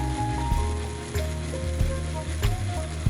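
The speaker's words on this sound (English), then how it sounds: "Maybe it'll work better if the flat side engages with the ratchet instead." Ratchet and pawl of a letterpress ink disc being worked in a home workshop, clicking several times in an uneven rhythm over a steady low mechanical hum, close and fairly loud.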